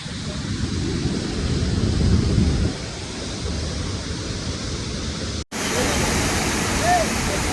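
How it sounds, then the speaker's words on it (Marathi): Kalu waterfall at Malshej Ghat in misty monsoon weather roars as a dense, steady wash of falling water, loud and continuous with a brief cut near the end. "कालू वॉटरफॉल."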